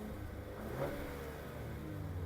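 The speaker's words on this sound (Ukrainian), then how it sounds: "А дай трошки газу" A 2016 Ford Fusion Titanium's 2.0-litre petrol engine with automatic transmission rumbles nearby and briefly revs up once before settling back to a steady idle.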